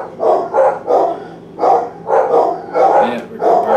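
Several dogs bark repeatedly at close range in a quick uneven series of about eight loud woofs, one after another without pause.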